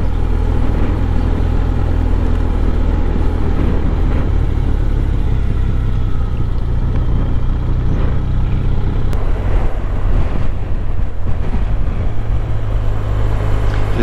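A motorcycle on a road ride downshifts from third to second gear with rev matching before a tight bend, heard as a loud, steady close engine drone with wind rumble and a subtle smooth shift in pitch.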